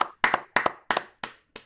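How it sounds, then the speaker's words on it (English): Sparse clapping for an award show's second-place winner, about six loud, close hand claps spaced roughly a third of a second apart, fading slightly at the end. "Round of applause for Stump."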